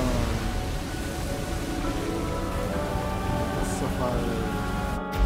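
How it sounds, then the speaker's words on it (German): A waterfall roars in the video game Zelda: Tears of the Kingdom, a dense, steady rush of falling water that stays loud and unbroken, with faint game tones above it. "Wasserfall."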